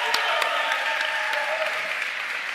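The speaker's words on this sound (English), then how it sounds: "Round of applause for Jack." Audience applause for a presenter walking on stage at an awards ceremony in Birmingham Town Hall, a dense, even roar of clapping from a large hall crowd with a few sharper individual claps standing out.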